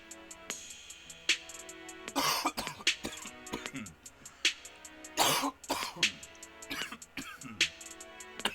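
A person coughs in several harsh bursts, scattered between quieter stretches with throat noises.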